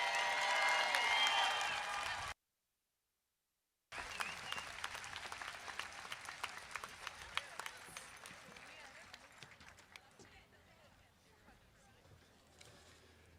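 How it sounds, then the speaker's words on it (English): Audience at a 2014 Start High School graduation applauds its class of proud graduates, loud broadband clapping that cuts out briefly, then resumes and gradually thins and fades. "Give them a round of applause and thank you."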